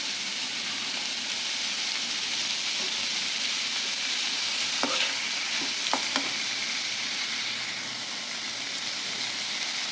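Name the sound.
sautéing onions and curry leaves for prawn gravy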